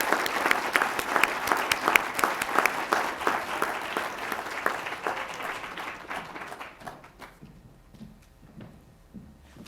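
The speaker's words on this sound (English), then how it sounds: "Please give another round of applause for all of our graduates as we recognize their accomplishments this afternoon." Audience applause at a graduation ceremony, dense and sustained clapping for the graduates that gradually thins out and fades toward the end, with a few scattered claps lingering.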